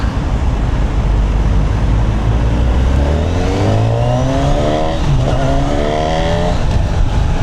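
A Honda CBR1000RR-R Fireblade 1000cc sport motorcycle on a test ride, its engine loud and near, pitch climbing steadily under hard acceleration and then rising again after a gear change, over steady wind roar.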